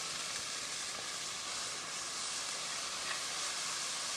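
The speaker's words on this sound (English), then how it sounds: "a little butter is used to soften a mirepoix in the same pan" Onions, celery and carrot softening in butter in a pan give a steady, quiet sizzle and hiss, continuous and even with no voices.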